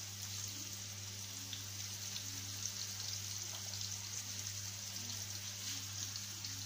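Bread chicken patties fry in a pan with a steady, even crackling sizzle, like light rain, continuing close and unbroken with no talking.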